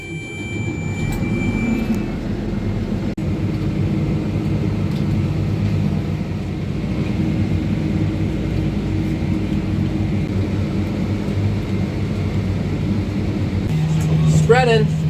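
A farm tractor drives across a field spreading oats, giving a continuous, loud low engine rumble that stays even throughout, with a brief chirping tone near the end.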